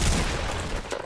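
Pump shotgun fire in the video game Fortnite, a single loud dense blast of gunfire filling the whole moment, close and harsh, with no talk.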